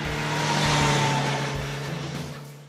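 An MV Agusta Brutale 1090RR motorcycle engine revs up to a high, rough roar and then eases off, close and fairly loud.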